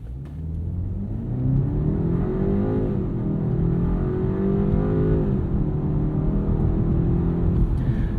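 A 2024 BMW 530i xDrive in sport transmission mode launches hard from a standstill, its engine rising loud and steady as it accelerates, heard from inside with no talk.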